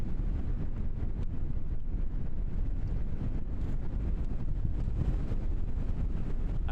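Strong wind buffeting a microphone outdoors at Christchurch airport, a low continuous roar with gusty rumbles and no speech.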